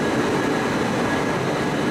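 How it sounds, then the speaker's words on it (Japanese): An out-of-service Shinkansen bullet train overtakes at speed, a loud dense steady rushing roar close by, unbroken for the whole moment with no voices. "回送列車が先に追い抜いていきましたよ"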